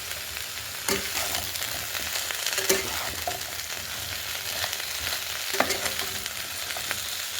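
Chopped tomatoes go into potatoes and vegetable stems frying in a pan for aloo posto, raising a continuous close sizzle broken by a few sharp scrapes and clinks as the mixture is stirred.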